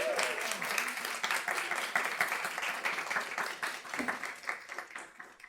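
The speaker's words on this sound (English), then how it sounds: "Tyra, clap it up for Tyra." Audience applause at an internship final celebration, a steady crowd of clapping hands sustained for several seconds, fairly close, with some cheering voices mixed in and the clapping thinning slightly toward the end.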